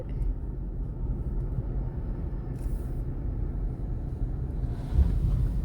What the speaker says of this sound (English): The river is literally to the bridge at this point.